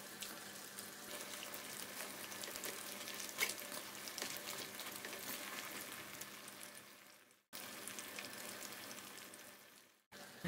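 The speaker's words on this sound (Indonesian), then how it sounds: "Dan kita goreng hingga kuning keemasan." Lumpia frying in hot oil, a steady crackling sizzle that runs nearly unbroken, dropping out briefly twice before resuming, with no talk.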